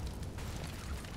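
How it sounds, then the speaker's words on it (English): Flashbang grenades going off in a Counter-Strike match on the Inferno map, a dense rumbling burst of low booming noise, steady and loud, with no voices over it. "We'll see what happens here as the flashbangs come through."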